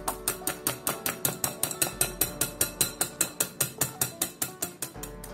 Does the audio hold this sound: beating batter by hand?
yes